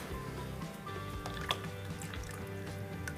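Lye solution strained and poured for homemade soap, a faint trickle and soft dripping with one brief splashy clink midway.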